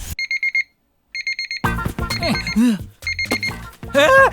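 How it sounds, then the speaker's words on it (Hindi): An alarm clock beeps in rapid electronic bursts, pauses, then resumes as voices talk loudly and excitedly over it, the beeping returning between and beneath the speech. "ये 6 बजे की जगह 9 बजे का अलार्म क्यों लगा दिया?"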